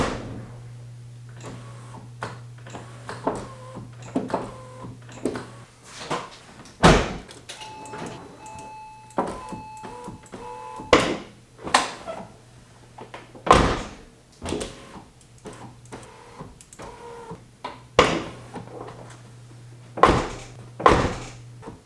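A Porsche 996 Turbo in trashed condition, with a misbehaving window, has its car door shut repeatedly: a series of sharp thunks and slams at irregular intervals over a low steady hum, with faint rattles and mechanical whirs in between.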